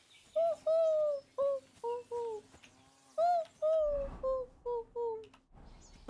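Doves in the Kingdom Come: Deliverance II game coo in a rhythmic series of clear, close calls over a faint steady hum, with a soft thump partway through.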